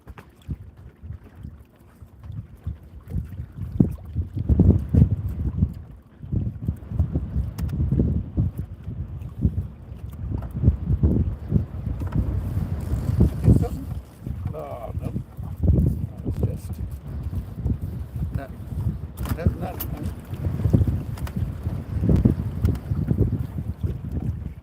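Wind gusting across a small fishing boat while trolling, a steady low rumbling buffet of microphone wind with shifting surges and occasional knocks, close and fairly loud, with people talking intermittently over it.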